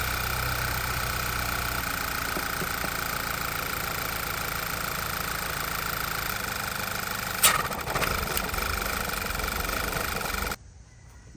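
A car engine with a faulty, choking PCV valve idles with a steady rumble and hum for about ten seconds, a couple of brief knocks near the end before it cuts off.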